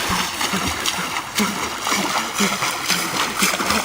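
Someone swimming and splashing hard in water, steady rhythmic splashes and sloshing up close, with excited voices over the splashing.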